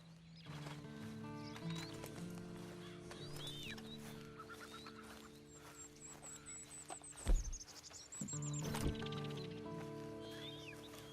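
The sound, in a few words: horse riding in a video game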